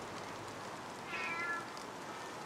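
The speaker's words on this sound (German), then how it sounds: "Eine Katze." A cat lets out a single faint meow, brief and somewhat distant, against a steady background hiss.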